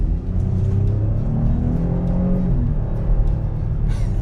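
A 2019 Chevy Blazer's engine pulls steadily as the SUV accelerates in normal drive mode, a continuous loud low rumble that rises in pitch through the run, with cabin road noise and no talking.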